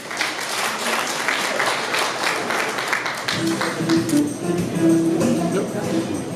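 Warm applause fills an award ceremony at a year-end gathering of a kidney patients' association, with murmured voices and a few camera-like taps under the clapping as it thins toward the end.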